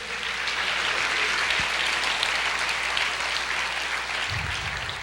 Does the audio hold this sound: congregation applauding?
yes